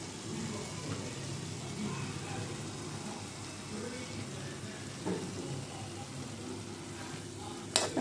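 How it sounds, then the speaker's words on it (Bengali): Prawn malai curry masala sautéing in a pan with turmeric, salt and chili: a steady, close sizzle and frying hiss running throughout, with light stirring scrapes and a brief sharper clatter near the end. "ভালো করে কষিয়ে নেব।"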